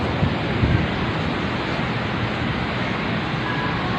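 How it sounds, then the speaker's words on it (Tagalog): Heavy rain and wind outdoors, a dense, steady roar of downpour and gusts that fills the whole clip loudly and evenly, with no voices. "Nabutan na tayo ng ulan dito"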